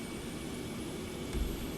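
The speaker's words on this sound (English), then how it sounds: "Sounds good, the engine sounds good." An Airbus A350-900 jet engine runs in a flight simulator, giving a steady, even broadband roar with a faint high whine and a brief low thump near the end, with no talk.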